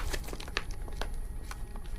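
A partly sealed mylar food-storage bag is mashed flat by hand to force the air out, giving a run of sharp crinkling crackles and rustles at close range, steady and fairly quiet, with no talking.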